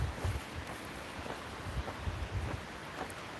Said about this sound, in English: those gusts of wind, though, are fucking insane